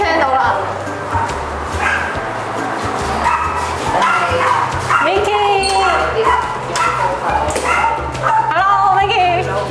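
A pet dog at a home in Zhongshan, China, barks, yips and whimpers excitedly at close range, with repeated loud bursts. Several people talk over and between the dog's noises.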